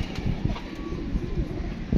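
Soft, low pigeon cooing repeats in short throaty pulses close by, with a faint steady background hum.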